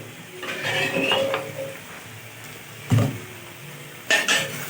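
A spoon stirs palak paneer in a pan, scraping and clinking against the metal, with a soft sizzle underneath and two sharper knocks toward the end.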